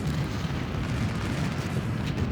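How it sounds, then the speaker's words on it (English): Cannon fire in a Battle of Gettysburg video game merges into a dense, continuous roaring rumble of heavy booms. The din is loud and unbroken, with no distinct talk over it. "Hope these cannons are worth what I paid for them."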